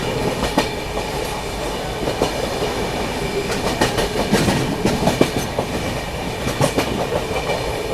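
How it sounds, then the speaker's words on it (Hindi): A Rajdhani Express passenger train picks up speed past Govindpuri Junction in India, its wheels making a loud, steady rumble over the rails with repeated clickety-clack beats from the rail joints. "स्पीड अप होनी शुरू हो गई यहाँ पर अपनी राजधानी एक्सप्रेस"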